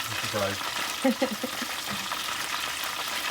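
Fish frying in a deep fryer during home meal prep, a steady broadband sizzle of hot oil running throughout, with a brief louder burst near the start and soft talk in the background early on.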